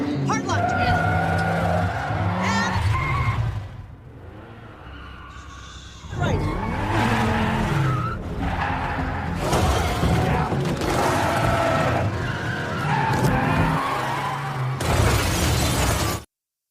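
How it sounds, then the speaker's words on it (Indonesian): A bulletproof car skids through a chase scene in the film Gunpowder Milkshake, with loud tire squeals, crashes, shattering glass and bursts of gunfire, and a narrator's voice running over the action. "kita lihat aksi Emily mengemudikan mobil."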